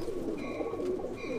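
Young pigeons coo inside a loft in New Jersey, making soft, low, throaty murmurs that overlap continuously, with no one speaking.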